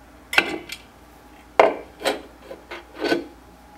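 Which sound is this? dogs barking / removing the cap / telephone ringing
removing the cap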